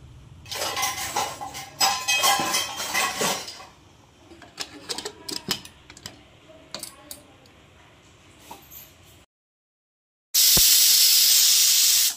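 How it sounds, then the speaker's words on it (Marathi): A pressure cooker cooking masala khichdi starts with clinks and hissing steam, falls briefly silent, then gives one loud, sustained, shrill whistle at the end, with no talking. "आपण कुकरला 2 शिट्ट्या करून घेऊ."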